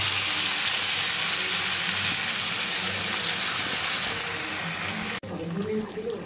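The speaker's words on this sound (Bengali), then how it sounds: "এবার ম্যারিনেট করা মাংসটা দিয়ে দিচ্ছি।" Marinated mutton goes into a hot pan with softened onions and tomatoes, giving a loud, dense, hissing sizzle that cuts off abruptly near the end, leaving a quieter bubble with a voice briefly heard.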